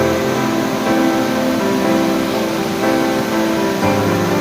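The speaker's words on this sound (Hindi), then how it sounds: "बहुत सुंदर झरना" Zero Point Waterfall rushes as a loud, steady wash of water, a broad continuous roar with no talking.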